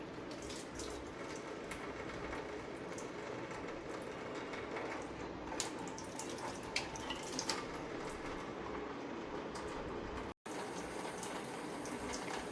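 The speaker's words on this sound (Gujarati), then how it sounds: "કોથમી, ફુદીનો બધું ધોવાઈ ગયું છે" Coriander and mint leaves being rinsed in water for pani puri, giving a steady close splashing and trickling wash with a few brief clinks and drips, and no talking.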